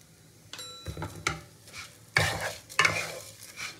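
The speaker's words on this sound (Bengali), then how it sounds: "তো চালটা এখন খুব ভালো করে ভেজে নিতে হবে একটু, সব উপকরণ দিয়ে।" Gobindobhog rice fries in ghee with turmeric, giving a soft sizzle as a spoon stirs and scrapes against the pot in a few distinct strokes, close and fairly quiet.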